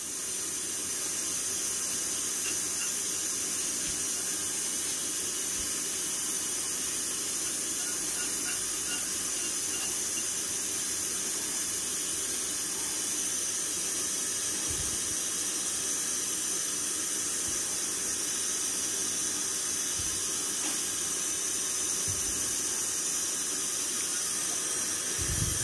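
Steady, continuous rush of tap water running into a sink while a cooking pot is rinsed after making Thai sticky rice, unbroken and fairly loud throughout with no talking.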